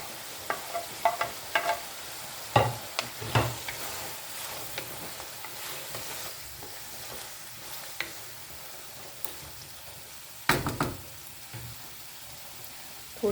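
Chicken and vegetables with soy sauce frying in a pan for pasta, a steady soft sizzle broken by intermittent louder stirring scrapes and clatters, close and alone.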